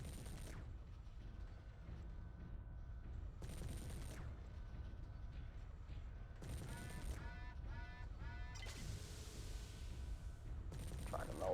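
AC-10 autocannon in MechWarrior 3 firing in several heavy, booming bursts spaced a few seconds apart, over a steady mechanical game rumble with a brief whining tone in between.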